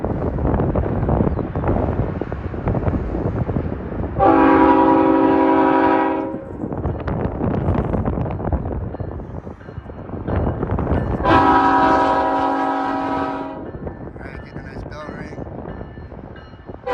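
BNSF heavy freight train with an ET44C4 locomotive rolling through Sullivan's Curve at the old Cajon Depot site in Cajon Pass, a constant rumble and wind buffeting broken by two long, loud, chord-like horn blasts.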